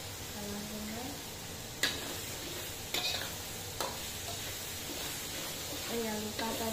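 Onion sizzling as it is stir-fried in a pan for an Indonesian home-cooked dish, a steady soft frying hiss punctuated by a few sharp clinks of a utensil against the pan, with a voice speaking over it.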